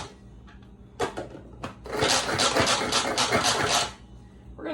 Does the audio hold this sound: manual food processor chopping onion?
yes